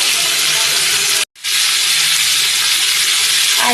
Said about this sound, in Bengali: এই জন্য আমি আই মাছটা হালকা ভেজে নেব